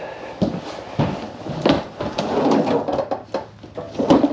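Kitchen drawer in a farmhouse kitchen, broken, being opened and closed repeatedly, a series of close wooden slides and knocks with rattling between them.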